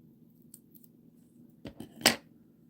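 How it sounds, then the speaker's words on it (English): Scissors cut a foam square in half with a couple of close, crisp snips near the end, following quiet room background. "I got to cut a foam square in half."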